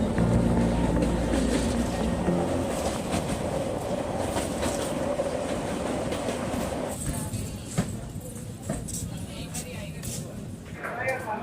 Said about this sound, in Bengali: ওদিকে আমাদের ট্রেন হাজিপুর ছাড়লো, আর খানিকক্ষণের মধ্যেই আমরা উঠে পড়লাম গন্ধক নদীর উপর ব্রিজে।